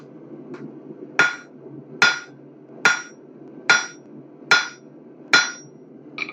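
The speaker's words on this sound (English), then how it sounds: "we are going to hammer on, or we're going to focus on these two sides to hammer shelves into the opposite" A blacksmith hammers hot metal while forging shelves into a smithy sign: six loud, evenly spaced hammer blows on the anvil ring out close by, with a faint tap before them and quiet between strikes.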